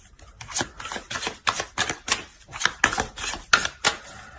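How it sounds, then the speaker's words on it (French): Tarot cards being drawn and laid out on a table, a rapid series of close, crisp shuffling snaps and slaps with no voices. "On va rajouter des cartes."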